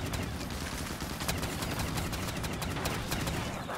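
Rapid gunfire in Call of Duty Black Ops 3 Zombies, a steady, dense stream of overlapping shots with no break, fairly quiet and continuous throughout.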